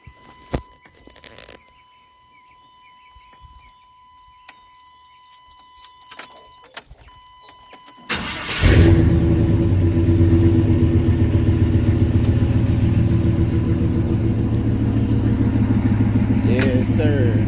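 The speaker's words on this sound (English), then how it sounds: "I'm gonna hit y'all with that cold start, man" An OBS Ford truck's engine cold-starts after keys jingle in near quiet, then cranks and catches into a loud, steady rumbling idle that runs to the end.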